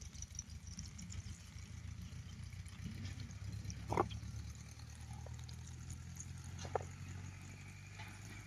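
Omelette batter mixture poured into a hot pan at an outdoor camping spot by a farm field: a soft, steady pour with a brief louder splash, over constant low hum and background noise.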